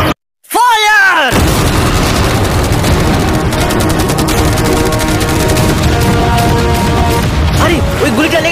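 A game barrage of cannons, machine guns and fireworks fires at a yacht: one sharp boom with a ringing tail, then a loud, nonstop wall of rapid gunfire and blasts to the end.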